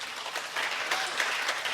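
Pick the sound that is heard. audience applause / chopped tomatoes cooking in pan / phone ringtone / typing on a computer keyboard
audience applause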